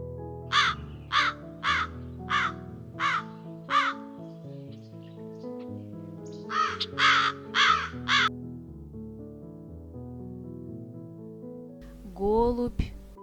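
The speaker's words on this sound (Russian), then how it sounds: "Ворона." An urban crow gives a series of loud, harsh caws in two bursts, about six evenly spaced calls, then a pause, then four more, with a final rougher call near the end, over a faint background hum.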